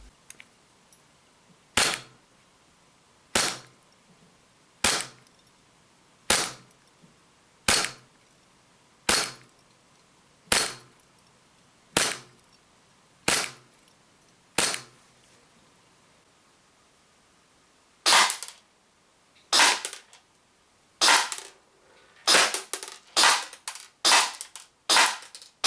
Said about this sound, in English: let's get some gas in the magazine, let's get some BBs in the mag, and let's fire this thing